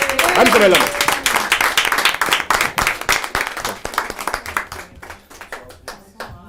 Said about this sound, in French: je vais vous demander de l'applaudir vraiment comme il se doit